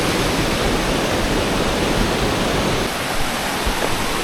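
A waterfall on a rainy-day hike roars as a steady, loud, broadband rush of falling water, unbroken and alone for the whole stretch with no voices.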